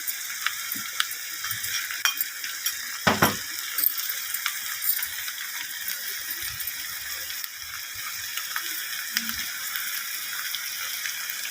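Food frying in a pan with chilli powder for a meat fry gives a steady, hissing sizzle, broken by occasional spoon scrapes and one sharper clatter, close and fairly quiet.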